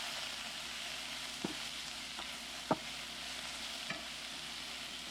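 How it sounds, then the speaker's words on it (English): Spinach sizzles in a pan with a soft, steady frying hiss, while a few quiet knocks come as it is stirred. "Spinach will cook down to almost nothing. Give this a stir. Watch the spinach shrink almost to nothing."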